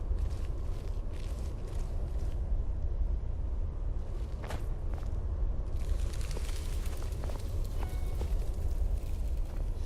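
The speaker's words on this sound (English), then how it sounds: "See, we can hear our own footsteps." Footsteps in Skyrim Special Edition, a steady series of crunchy clip-clop steps over a loud continuous rumbling background with no talk.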